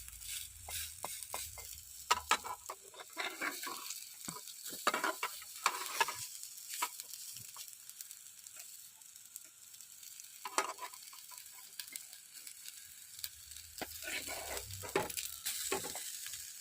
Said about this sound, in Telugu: ఇలా ఒక్క సైడ్ ఫ్రై అయ్యాక మనం ఇంకొక సైడ్ కూడా ఫ్రై చేసుకోవాలి.